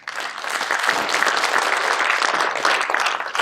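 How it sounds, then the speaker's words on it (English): An audience at the closing ceremony of the 6th ASDS 2023 conference in Malaysia bursts into dense, sustained applause that holds steady for a few seconds. "so let's give them a big applause."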